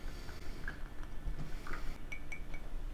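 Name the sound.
mixing oil cleanser in a container with a pipette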